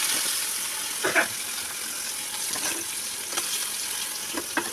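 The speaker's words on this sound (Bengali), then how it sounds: "এখন মাছটা ভেজে নিছি তরকারি বানানোর জন্য" Fish, a farsha, sizzles steadily in hot oil in a pan for a curry. The continuous bright crackle is broken by a few soft stirring scrapes and clinks, and no one talks.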